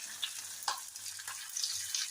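Long beans drop into hot oil where mustard seeds have already popped, giving a soft, steady frying sizzle with a few brief crackles, close but fairly quiet and free of talk.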